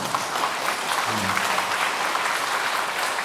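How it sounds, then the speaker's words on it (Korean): Church congregation applauding during a Sunday evening missionary commissioning service, steady, even clapping from many hands filling the whole stretch, with a brief voice murmuring underneath. "우리 총회 우리 목사님부터 박수하시고"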